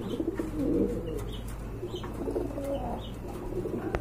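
Pigeons, including a blue red bar pigeon, coo in soft, repeated low rumbling calls at close range, with other birds chirping and a few faint knocks in the background.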